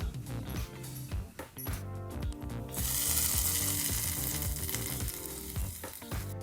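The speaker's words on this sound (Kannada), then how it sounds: "ಒಂದು ಮೂವತ್ತು ಸೆಕೆಂಡ್ಗಳ ಕಾಲ ಇದನ್ನೆಲ್ಲ ಫ್ರೈ ಮಾಡ್ಕೋಬೇಕು ಎಣ್ಣೆಯಲ್ಲಿ" Chana dal, urad dal and curry leaves fry in hot oil for a chutney tempering, loud sizzling and spattering building to a bright crackle midway, alongside repeated stirring clatter and no speech.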